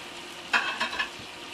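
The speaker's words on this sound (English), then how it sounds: "I'm going to stir this around a little bit" Pre-cooked sausage patties get stirred in a hot pan with butter, three short scraping strokes over a constant soft sizzle, close and with no talking.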